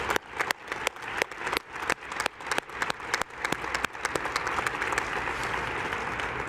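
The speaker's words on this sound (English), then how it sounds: "we should give Keiko a big round of applause for her leadership" An audience at a women's CEO award ceremony gives a round of applause, starting with a few distinct claps that quickly swell into dense, sustained clapping across the room.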